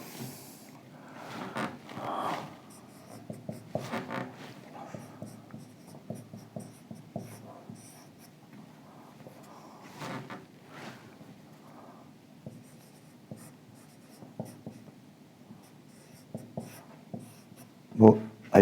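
Writing by hand on paper or a board during an engineering lecture on loads, with scratchy strokes coming in irregular bursts and pauses, close and fairly quiet, ending with a sharp tap.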